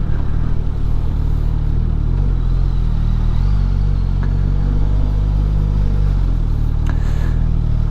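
Suzuki GSX-S1000GT motorcycle ridden while lane filtering through traffic, a loud steady low engine drone with heavy wind rumble and a few brief clatters throughout.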